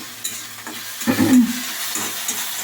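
Something frying in a pan makes a close, moderate sizzle, with a few scraping stir strokes and a brief louder burst in the middle.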